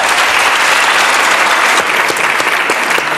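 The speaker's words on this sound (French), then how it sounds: "On l'applaudit, Jean-Marie Bigard." Loud, close applause from a TV studio audience on a French talk show, greeting comedian Jean-Marie Bigard with dense, continuous clapping that stays strong from start to finish.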